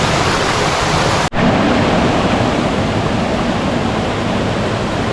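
Creek water flowing among boulders on a hike, a steady broadband rushing wash with one brief dropout, close and continuous.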